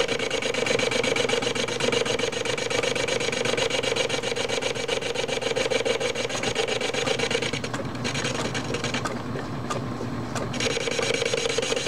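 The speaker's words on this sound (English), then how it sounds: "now we're chucked it up in the small lathe here, and we're just going to square it up" Small metal lathe squaring up the end of a sawn spline, a steady motor hum with a bright tonal whine and a continuous rasping cut, briefly interrupted by short scraping bursts near the end.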